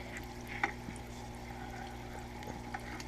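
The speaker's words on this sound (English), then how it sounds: "See, it's bubbling the water." Quiet, steady bubbling and trickling from an aquarium aerator in a bucket of pond water, with a few soft splashy pops and a low constant hum underneath.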